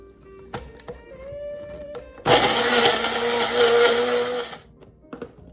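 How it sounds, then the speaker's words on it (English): A blender whirs loudly for about two seconds, grinding a Malay fish curry spice paste, bracketed by a few clicks and knocks and a faint tone before and after. "Close it up and blend it to a smooth paste."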